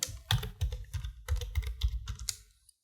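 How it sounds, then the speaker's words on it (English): Keys clatter on a computer keyboard in quick, uneven bursts of presses for about three seconds, close and fairly crisp with brief pauses, with no voices. "here you can type anything,"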